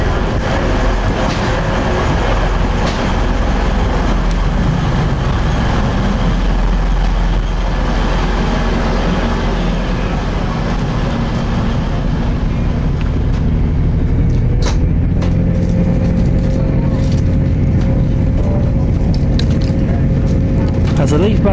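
TransPennine Express Class 185 unit built by Siemens arriving at Lancaster station, a loud continuous rumble and mechanical whine from the train dominating a busy platform, with a voice speaking over it.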